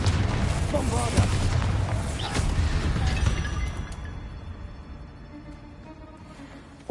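Spell blasts from Confringo and Bombarda in the Hogwarts Legacy video game, a dense run of booming, crackling explosions mixed with game effects that fade into a lingering rumble.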